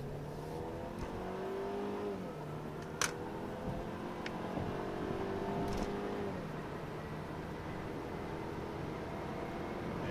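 A 2015 Mercedes C300 engine accelerates from a standstill, its revs climbing and dropping through gear changes, heard from inside the vehicle.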